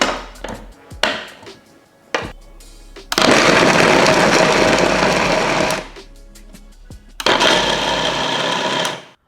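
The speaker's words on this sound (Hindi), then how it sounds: "तो इसके चॉपर जार का यूज करके चॉपिंग करते हैं।" A mixer grinder's chopper jar chops onion, whirring in two loud bursts of several seconds each, with clattering handling and clicks between them.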